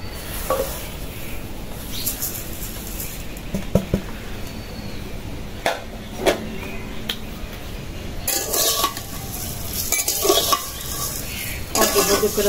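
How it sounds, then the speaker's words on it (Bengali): Vermicelli (semai) frying in a hot wok, with continuous sizzling under repeated scraping and clinking as a utensil stirs it against the metal; close and fairly loud, with no talking. "কড়াই গরম হইয়া গেছে, এখন সেমাইটা আগে ভাইজে নেই।"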